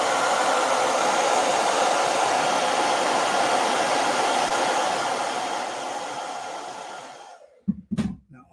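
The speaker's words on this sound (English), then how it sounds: "I'm going to hit this with a blow dryer." A blow dryer blows a steady, loud rushing hiss for about seven seconds, then cuts off and leaves a couple of short knocks.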